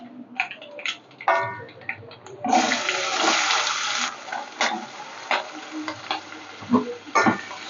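Onions and green chillies frying in a pan with a little asafoetida, a rushing hiss swelling as they hit the oil, then sizzling with intermittent taps and scrapes of stirring.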